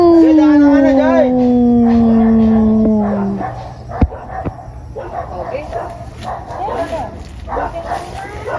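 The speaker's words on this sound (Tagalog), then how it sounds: "At naiyak ang mga aso." Several dogs howl together on a farm among papaya and banana plants, long wavering howls fading after a few seconds into scattered yips and barks while people talk nearby.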